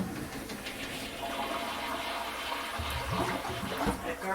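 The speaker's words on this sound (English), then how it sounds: "When you flush this toilet, listen, open that door. It gurgles." A toilet flushing in a house with a clogged drain, a rushing watery swirl with bubbling gurgles building toward the end, moderately loud and without talk.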